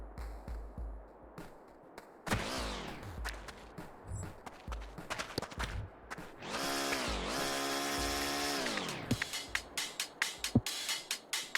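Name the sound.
drill running in Casualties: Unknown video game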